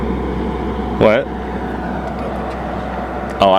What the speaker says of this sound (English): There goes the garbage truck.